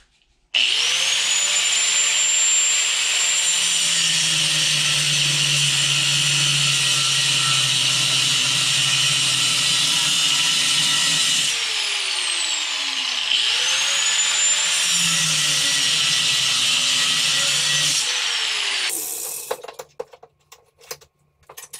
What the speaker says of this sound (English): now I'm going to cut the bigger pipe, cut about 7 inches off of it with the grinder